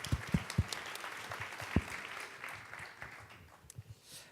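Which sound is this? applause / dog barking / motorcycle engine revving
applause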